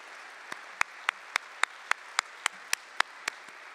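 Applause for hall of fame inductees at a health care induction ceremony, heard as a slow, regular series of about a dozen sharp, distinct claps, close and evenly spaced, like a few people clapping in a quiet room.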